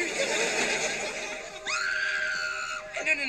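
Screaming as the lights go off in a children's show, with a shrill, wavering cry rising out of noisy background chatter and a second shorter shriek near the end, mixed with voices and laughter.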